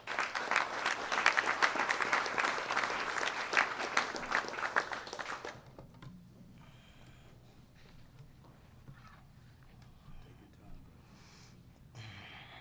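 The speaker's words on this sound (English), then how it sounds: "Clap your hands for Alonzo Waheed." A crowd at a Chicago gathering about ICE arrests breaks into loud, sustained applause for about five seconds, then it cuts off abruptly, leaving faint room noise and scattered quiet sounds.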